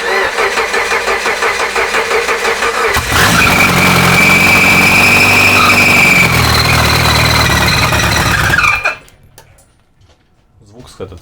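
A quad-turbo car engine fires up on its first start, then settles into a loud, steady idle with a whining tone, a rough mechanical note suggesting a loose flywheel, before cutting off abruptly near the end.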